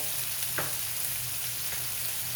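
Vegetables sizzle in a hot skillet with a steady, close crackling hiss and a few brief scrapes of stirring.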